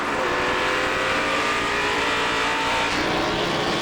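Stock cars race at Hickory Motor Speedway, a loud, steady roar of several engines at full throttle through a corner, with layered engine whine and no break in the noise.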